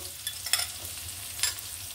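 Chopped onion, garlic and slit green chillies frying in oil in a pan, a soft continuous sizzle with a few quick stirring scrapes, quiet and close, no voices.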